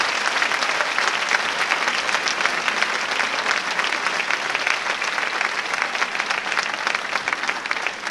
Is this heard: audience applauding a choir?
yes